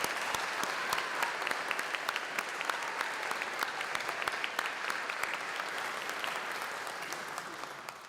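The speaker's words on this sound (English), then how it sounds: "all of our award winners deserve one more rousing round of applause" Audience applauding award winners at a university honors convocation in a chapel, a steady, dense round of clapping that fills the room and holds at an even level before easing off at the end.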